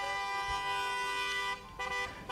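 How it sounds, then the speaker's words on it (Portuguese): A car horn blares in long, steady, loud blasts, briefly breaking off and then sounding again, with no voices over it. "Ficar buzinando igual doido?"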